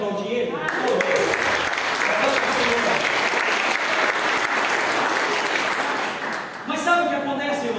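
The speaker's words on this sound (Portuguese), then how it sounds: "Você pode aplaudir ele?" A church congregation applauding in a sustained, dense burst of clapping that holds steady for several seconds, then cuts off as a voice resumes speaking.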